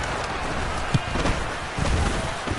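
Rain falling on an open-air football stadium during an afternoon game, a steady broadband hiss of drops with a few soft thumps and crowd murmur underneath, continuous and moderately loud.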